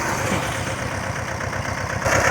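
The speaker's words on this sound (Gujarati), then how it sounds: "ટ્રેક્ટર આવે છે હો મિની ટ્રેક્ટર" A mini tractor engine idles close by, a steady low rhythmic chug that stays even for a couple of seconds.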